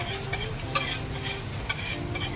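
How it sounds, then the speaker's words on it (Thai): Pad thai noodles are stir-fried in a hot wok at a street stall, with a loud, dense, continuous sizzle and brief scrapes and clinks of the spatula against the metal close by. "ผัดไทยมันต้องให้มันร้อนให้เส้นมันนุ่มแล้วก็นวดเส้นนะ"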